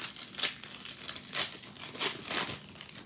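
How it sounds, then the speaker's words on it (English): Foil wrapper of a Yu-Gi-Oh! Labyrinth of Nightmare booster pack crinkling and tearing open up close, in several bursts of crisp rustling with no talking. "Let's open one pack of Yu-Gi-Oh! Labyrinth of Nightmare."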